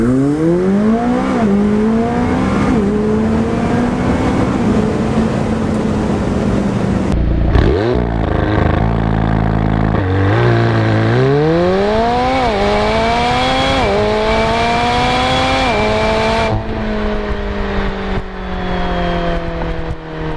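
A McLaren 720S makes launch-control runs, its engine rising loudly through the gears with sharp upshifts. After a short pause there is a second hard run, and the sound stays close and powerful throughout.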